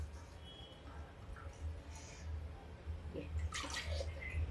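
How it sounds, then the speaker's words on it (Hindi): Water poured into taro (arbi) curry simmering in a pan on a low gas flame, a soft splashing trickle with low hum beneath, fairly quiet and close. "तो अब इसमें पानी भी डाल देते हैं थोड़ा सा"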